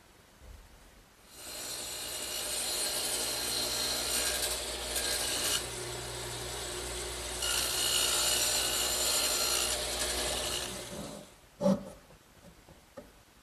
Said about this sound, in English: I'll cut the thickness using my radial arm saw and the dado head cutter.